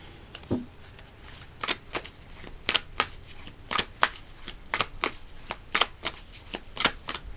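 Tarot cards being shuffled, a string of crisp, close riffling snaps and slaps at an irregular pace over several seconds, with no voices over them.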